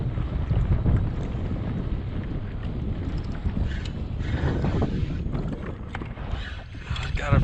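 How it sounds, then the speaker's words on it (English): Strong, cold wind buffets the microphone on a fishing boat out on the water near Brunswick, Georgia, a steady broadband roar with gusty swells lasting throughout, no talk. "Ooh, that wind is strong"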